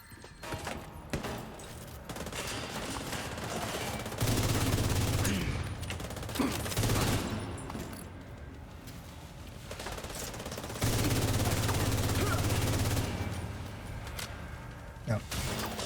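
Sustained bursts of FAMAS rifle fire in a first-person shooter game, loud rapid automatic volleys in several long strings with brief pauses, over constant game background noise.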